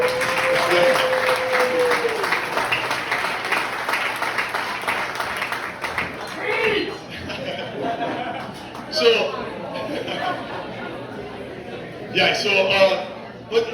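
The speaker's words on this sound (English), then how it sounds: "and Maz, stand up for a second so everybody can give you a big clap and tell you how great you are." An audience at a wrestling hall of fame dinner applauds steadily for about six seconds, then the clapping fades into murmured chatter and talking, with a few scattered claps and laughs afterward.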